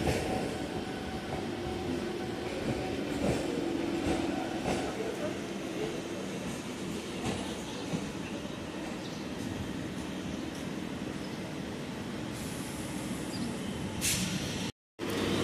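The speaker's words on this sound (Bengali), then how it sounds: "দুটি ট্রেন একসাথে বেরোচ্ছে" Chennai–Kolkata express 19608 pulling out beside another train near Batipukur station, a steady broad rumble of wheels and carriages filling the whole stretch, with a brief dropout near the end.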